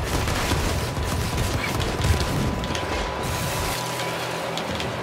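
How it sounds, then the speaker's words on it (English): Sniper gunfire in the video game Infamous Second Son, a loud, dense barrage of cracks and rumbling blasts that runs steadily for the whole stretch and eases slightly near the end. "damn these fucking snipers"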